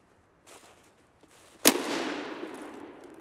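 A single sharp gunshot-like bang rings out in the video game Escape From Tarkov, followed by a long noisy crackling tail, with faint scattered sounds before it.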